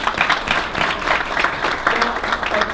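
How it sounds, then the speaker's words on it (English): Guests at an in-person family business awards event applauding themselves, fairly close, uneven clapping with some crowd murmur mixed in. "So give yourselves a round of applause."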